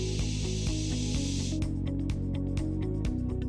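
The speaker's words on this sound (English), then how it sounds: "The polyurethane filler is applied on the T-profiles." Polyurethane filler is sprayed onto T-profiles of a Frontek Plus facade system with a steady, close hiss that stops halfway through, over a continuous tonal musical background.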